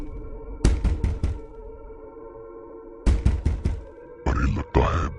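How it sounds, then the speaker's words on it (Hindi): Two quick bursts of four sharp knocks on a house door at night, a short pause between them, followed by a voice speaking in a cartoon horror story. "फिर वह उस घर का दरवाजा खटखटाती है।"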